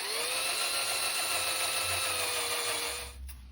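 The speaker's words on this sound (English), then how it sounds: "I'm using a left-handed drill here" Left-handed drill boring out a stuck part on a Black & Decker 8 gauge nibbler, a steady high whine with a rising pitch, loud and close, cutting off abruptly near the end.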